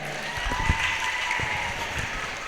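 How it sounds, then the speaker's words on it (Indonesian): Students clapping for a classmate in a vocational high school classroom, a short burst of scattered, moderately near applause with faint background murmur. "Tepuk tangan buat kawannya ya."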